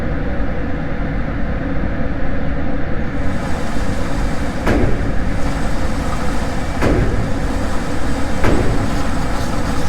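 A shooting range target carrier reeling a paper target back in after a pistol string gives a steady mechanical rumble along its track, broken by a few sharp clacks, with no voices.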